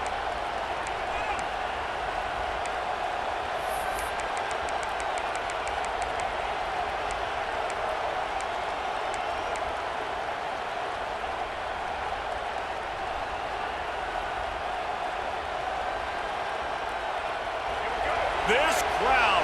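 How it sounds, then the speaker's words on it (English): In EA Sports College Football 26, a packed stadium crowd roars in a steady, full, unbroken wash of noise during a Carolina versus Washington game, with commentary faintly underneath. "This crowd, full throat, splitting the eardrums"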